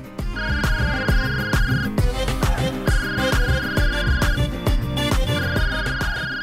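A phone ringtone plays in repeating melodic bursts over a rhythmic musical backing, fairly loud and continuous with no talking.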